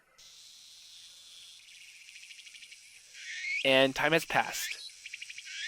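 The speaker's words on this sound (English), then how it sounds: "the cries of the cicadas was getting fewer and that the end of the summer is approaching" Cicadas chirp in the visual novel game If My Heart Had Wings, a steady high insect drone running throughout, with someone talking over the latter half.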